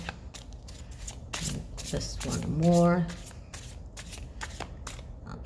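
Close riffling of a deck of cards, a quick flurry of flaps building to a brief rapid burst, with a person speaking briefly.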